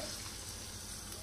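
Hot tadka tempering is poured over a finished dish, giving a steady, even sizzle that fills the whole moment, close and fairly quiet with no talk.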